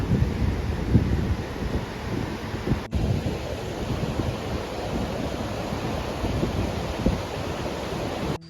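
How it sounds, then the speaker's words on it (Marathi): Strong wind buffets the microphone while sea waves surge steadily onto a beach at Murud, near Janjira fort on the Konkan coast, a loud continuous roar with a brief dropout partway through. "समुद्रकिनारी जोरात हवा आणि लाटो देखात बैसलेलो"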